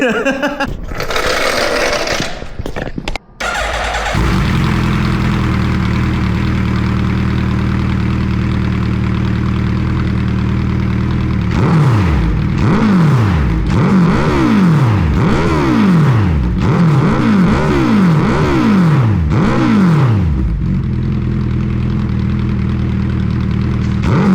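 A Suzuki Hayabusa motorcycle with a new exhaust and its baffles removed starts up, settles into a loud, steady idle, then rips through a string of sharp revs that rise and fall before dropping back to idle, close by.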